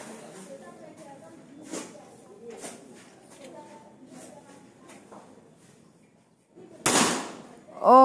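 A Predator 500cc PCP air rifle with a Bumbara barrel fires a Hercules pellet, a single sharp loud crack near the end after quiet background sounds, followed by someone speaking.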